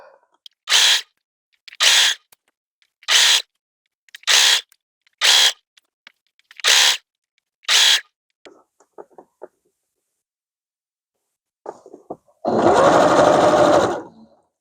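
Sewing machine stitching quilt binding in short bursts, seven evenly spaced whirring runs of about half a second each, then a longer, louder run near the end, close up.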